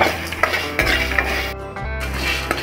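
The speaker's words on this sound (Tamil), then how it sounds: "இதையும் சேர்த்து நம்ம நல்லா வதக்கிக்கலாம்." Small chopped coconut pieces are sautéed in a pan over a low flame, with a spoon scraping and clinking against the metal over a soft sizzle, close and fairly loud.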